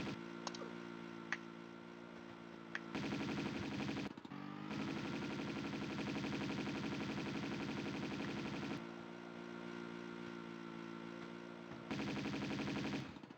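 Automatic pistol gunfire from Tomb Raider 2 in the Tibetan Foothills level: rapid repeated shots in sustained bursts, loud and close, layered over droning game sound, with no talking.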